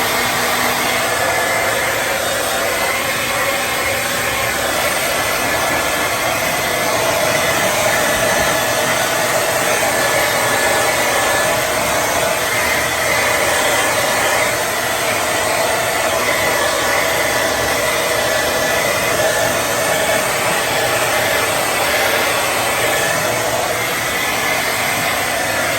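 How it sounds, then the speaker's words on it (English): A hair dryer blows on fresh paint on a studio-scale Star Wars Death Star silo tower model, a loud, unbroken airy roar with a steady motor whine lasting the whole stretch. "give that a blast with some hair dryer to dry it."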